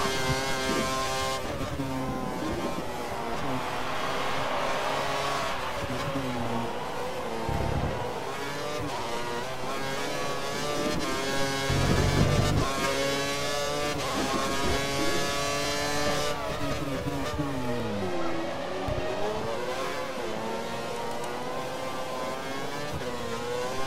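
Formula 1 cars in the F1 2013 racing game at the Chinese Grand Prix, a high-pitched engine whine rising and falling through upshifts and downshifts, with other cars' engines layered in, sustained and loud with no talk.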